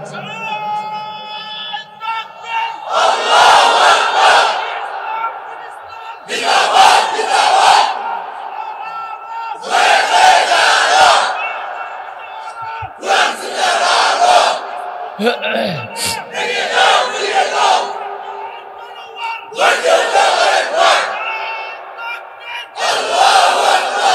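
A large crowd at an Islamic religious gathering shouts the takbir chant in powerful unison bursts, about seven loud roars separated by short pauses in a call-and-response rhythm.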